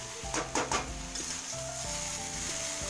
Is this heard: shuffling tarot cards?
no